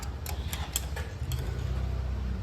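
Rapid, light metallic ticking from the chain guide of a Royal Enfield Classic 350 motorcycle over a low idling engine rumble, a few sharp ticks standing out early before the steady mechanical hum takes over.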